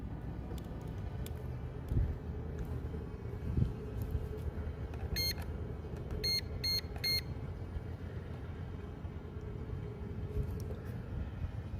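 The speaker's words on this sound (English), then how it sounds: "the beeping's the obstacle avoidance" A drone's obstacle-avoidance warning gives short clusters of high electronic beeps over a steady background hum of rotors and outdoor noise, during a morning search flight; the beeps come in a few quick bursts midway.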